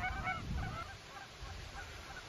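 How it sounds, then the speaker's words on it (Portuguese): Geese honk during a goose hunt, a flock of several birds calling in quick overlapping honks at moderate distance over steady outdoor noise, with no talk. "É um absurdo essa quantidade de ganso que tem aí, cara."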